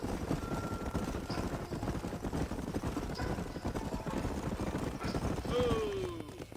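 Horses in the Red Dead Redemption video game, with steady clip-clop hoofbeats running under voices and a continuous background rumble, moderately loud throughout.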